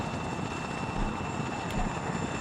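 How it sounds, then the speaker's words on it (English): Helicopter in the Arma 3 video game setting down near ground troops, a steady loud rotor and engine drone with broadband roar running throughout, no voices. "So let's see if I can just put down here"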